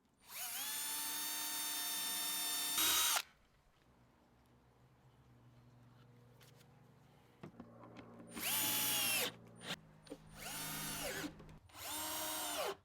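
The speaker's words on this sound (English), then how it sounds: "The first job is to drill some pilot holes" A power drill boring pilot holes in wood, heard as three loud bursts of high-pitched motor whine, the first about three seconds long and the others shorter. A quieter low hum runs between the bursts.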